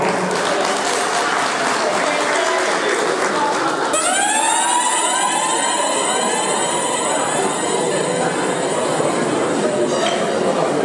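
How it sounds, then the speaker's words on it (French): An audience applauds at a Tabaski celebration held by the Bamoun community in the Benelux, with loud, sustained, dense clapping; a bright ringing tone joins partway through and voices sound underneath. "Je vous prie d'applaudir pour notre évangile national."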